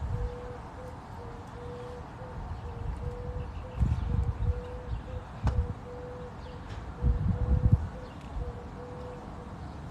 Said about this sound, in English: You guys hear that bird?